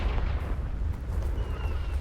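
A Confringo fire spell going off in Hogwarts Legacy: a dense, low, rumbling blast that holds steady and loud throughout with no clear break or voice.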